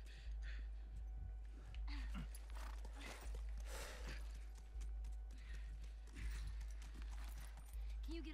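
Horse hooves clip-clop in The Last of Us Remastered, soft irregular steps fairly faint and close, with people talking over them.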